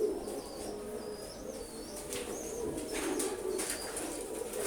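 Pigeons cooing softly amid other bird calls while bathing in water, with a steady low background and brief bursts that may be wing flaps, no talking.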